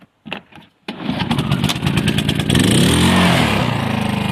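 A Honda engine cranks with a couple of brief pulls, then catches and settles into a steady, loud, close running drone that holds to the end.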